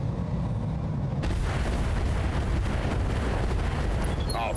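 Heavy mech weapons fire in the BattleTech RogueTech game, a dense, loud, continuous roar of booming blasts and rumbling explosions that fills the clip.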